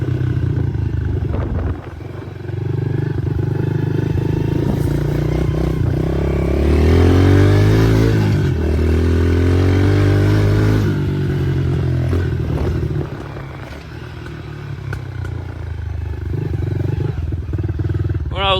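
Engine of a Honda 110 pit bike ridden on trails in Quebec: a loud, continuous close-up motor drone that rises in pitch as it revs up in the middle, then settles back to a steady run.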